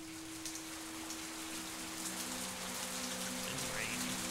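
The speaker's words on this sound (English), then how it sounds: "Of course it rains." Steady rainfall in the video game The Path, a constant close patter on surfaces with faint tonal hums from the game's soundtrack beneath, no voices.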